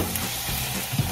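Bitter gourd (ampalaya), onion and garlic hit a hot pan with a bright, hissing sizzle that holds steady for about a second, with a small crackle at the end.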